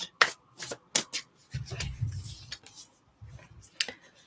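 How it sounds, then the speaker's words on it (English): Tarot cards shuffled by hand, a run of sharp riffling bursts and soft slaps, followed by a longer low shuffling rustle and a few more close taps. "Let's give this a bit of a shuffle for you, Stardust."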